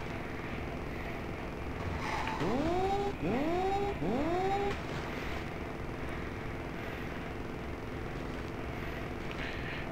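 Buzzing kart engines from the DOS racing game Wacky Wheels drone steadily throughout, with three quick rising revs in a row midway, loud and synthetic, with no talking.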